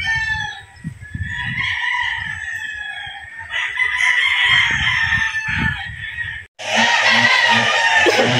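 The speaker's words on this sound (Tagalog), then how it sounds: "Maganda ng mga manok ni Sir B-boy." Several roosters crowing in an outdoor gamefowl flying pen, loud and close, their long calls overlapping one after another with occasional clucks in between and no talking.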